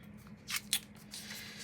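Scissors trim padfolio covering material in two quick, faint snips close by, followed by a soft rustle of the material in a quiet room.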